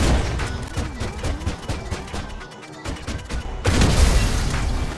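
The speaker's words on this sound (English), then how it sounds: "let's see how many shots it takes with the pump shotgun MK2 using explosive slugs" In GTA, Pump Shotgun Mk II explosive slugs strike a Ruiner 2000 as a run of loud booming blasts in quick succession, with dense crackling impacts that swell louder toward the end.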